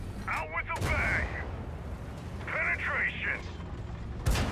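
Tank cannon fire in World of Tanks: a sharp, loud blast near the start and another at the end, with announcer-like voice lines in between over a constant engine rumble.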